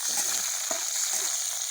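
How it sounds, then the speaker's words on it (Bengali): Onion fries in oil in a pan on a wood-fired stove, producing a close, steady hiss broken by a few soft pops and clicks. "প্রথমে তেল দিয়ে তারপরে হচ্ছে পেঁয়াজটা দিয়ে দিল"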